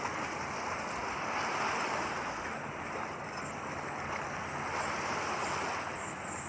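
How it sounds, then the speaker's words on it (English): High tide water washing over rocks in Sydney Harbour, a soft continuous wash and surf hiss with some wind noise, steady and fairly quiet with no voices. "the high tide slowly creeping in over the rocks"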